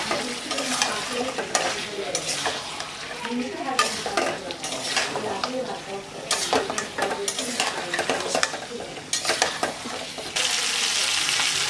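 Chicken curry with cut potatoes stirred and frying in a pan, a steady sizzle with repeated scraping stirs and occasional clinks of a utensil against the pot, close and continuous with no talk.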